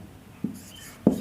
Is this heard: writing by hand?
yes